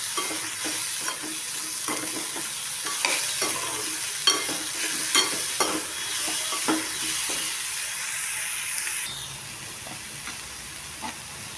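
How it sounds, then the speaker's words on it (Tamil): Cluster beans being stirred in a pan with fried onion and carrot, a steady hot sizzle and hiss running under repeated scraping strokes of a spoon against the pan, close up, with no talking. "இப்போ இந்த கொத்தரங்காவை சேர்த்துக்கலாம். நல்லா கிண்டி எடுக்கணும்."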